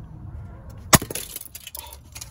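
A tiny, cheap Logitech webcam shatters in one sharp, loud crack with a brief splintering rattle, then scattered small clatters of broken plastic pieces over faint background noise.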